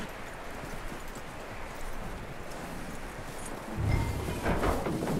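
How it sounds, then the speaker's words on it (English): Horse hooves clopping in Red Dead Redemption 2, a steady, dull walking beat under a constant wash of ambient noise, with a louder thud and rumble near the end. "That looks like a decent horse."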